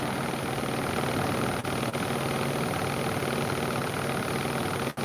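A Bosch WAE24364GB washing machine with a new motor spinning at high speed, a loud, steady broadband roar and whine held continuously from start to finish.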